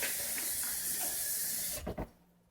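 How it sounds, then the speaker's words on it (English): Water pours from a tap into a blender jar holding black-eyed peas for akara, a steady bright hissing rush that cuts off abruptly after a couple of seconds. "I'm going to fill it with water"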